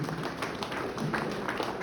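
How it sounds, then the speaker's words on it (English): A school audience applauds prize winners, a brief burst of steady clapping from many hands filling a hall at moderate loudness. "Do clap for them, please, everyone."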